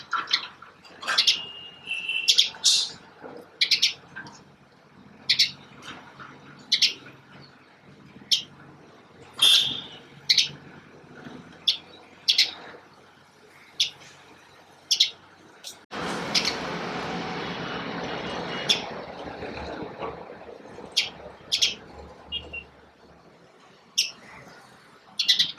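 House sparrows chirping in short, bright bursts repeated throughout, fairly close, with a stretch of broadband rushing noise partway through and faint background sounds.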